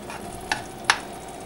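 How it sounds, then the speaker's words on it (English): Glass noodles being stirred as they fry in sauce for Szechuan ants climbing a tree, with two short, close scraping strokes of the utensil over a faint sizzle. "I continue to stir it as the noodles soak up the sauce."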